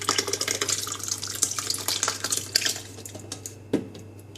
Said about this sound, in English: Now I'll pour everything into the liver.